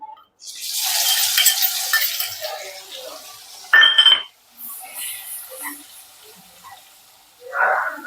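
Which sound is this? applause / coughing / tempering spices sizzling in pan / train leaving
tempering spices sizzling in pan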